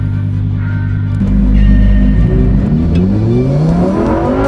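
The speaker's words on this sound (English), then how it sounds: "Listen to that engine!" A 2018 Lamborghini Huracán Performante engine revs hard, rising from a steady idle into a loud, climbing roar with sweeping pitch as it accelerates, heard up close without talk.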